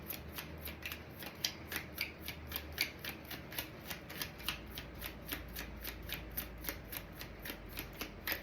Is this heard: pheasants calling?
no